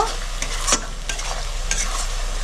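Ginger, garlic and chili paste stir-fried for chicken kosha in a pan: a loud, close, continuous sizzle with rhythmic spatula scrapes every second or so.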